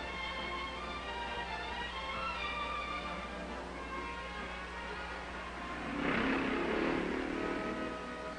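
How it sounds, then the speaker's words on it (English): Vintage BSA, AJS, Zundapp and Triumph motorcycles at a 1959 enduro ride past, their engines a faint, steady drone that swells briefly louder as one nears. "One by one, the BSAs, AJs, Zundaps, and Triumphs and other motors file by."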